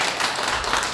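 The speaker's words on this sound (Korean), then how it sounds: "우리 박수로 환영해 주시면" A church congregation at a Christmas service claps to welcome a new associate pastor and his family, a dense, steady round of applause heard close for a brief moment.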